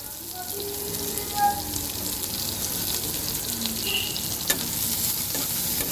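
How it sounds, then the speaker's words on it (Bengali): Chopped onions fry in a pan with nigella seeds and green chillies, giving a steady, soft sizzle throughout with occasional stirring scrapes, close but fairly quiet. "পেঁয়াজটাকে একটু ভেজে নেব দেখো পেঁয়াজটা কিন্তু সুন্দর ভাজা হয়ে গেছে"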